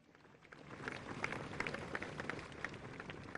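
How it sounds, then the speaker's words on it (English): A large outdoor audience at an Indian Army display of President's Bodyguard riders applauds, a steady, fairly faint wash of clapping from many hands building up and continuing at a distance. "Please give them a huge round of applause again."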